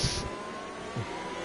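F1 race cars accelerate in a racing video game set at the Brazil circuit, a continuous high engine whine with two brief louder roars, close and without talk.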